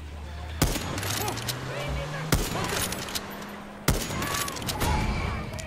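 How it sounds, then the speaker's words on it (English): Gunfire in the video game Far Cry 6, three sharp loud shots spaced about one and a half seconds apart over a busy game soundscape with a low droning hum. "Okay, we're gonna shoot them."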